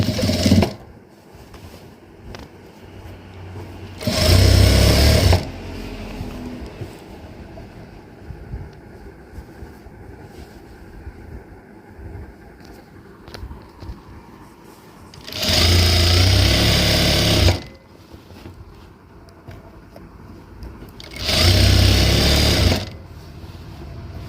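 Three separate bursts of a sewing machine running loud and steady, each a few seconds long, stitching an evenly wide elastic casing along a fabric hem, with quieter handling sounds in the gaps.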